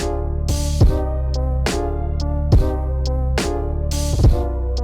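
A piano melody of repeated chords and single notes in a steady, moderate rhythm, clear and close, with the sound shifting between left and right.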